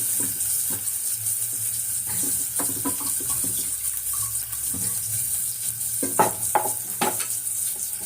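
Cooked salted spinach greens are mashed and stirred in a pan, with scattered scraping and squelching knocks over a steady background hiss.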